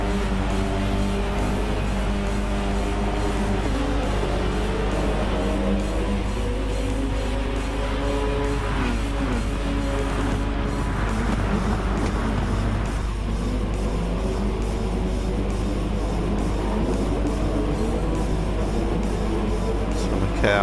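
Race cars, including a Mazda 3, lapping the Red Bull Ring in Gran Turismo 7, a continuous loud engine roar with rising and falling revs and passing cars, under constant track ambience.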